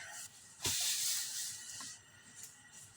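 Cooking oil sizzling in a pan on the stove, a soft steady hiss that swells into a louder burst and eases back, with faint clatter and no talk.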